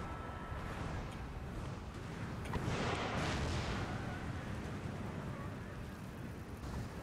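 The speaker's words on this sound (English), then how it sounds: "Where's my artillery? Okay, there you go. You are still firing." Artillery in Empire Total War fires as a dense, faint, continuous rumble of distant cannon, one fuller swell near the middle, with a voice faintly present.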